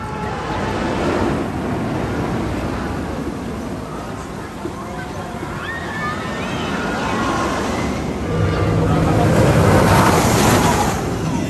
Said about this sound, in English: let's go on this fun Giga coaster